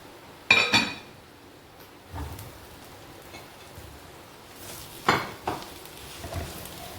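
Soya chunks tipped into a pan of roasted spice powder and stirred, with a few distinct clinks and scrapes of utensil on metal separated by quiet pauses.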